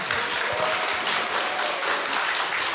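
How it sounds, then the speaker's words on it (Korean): Steady applause from a studio audience at a live public broadcast of a Korean political talk show, dense and even throughout with no break. "이럴 때 한번 박수 한번 보내주세요"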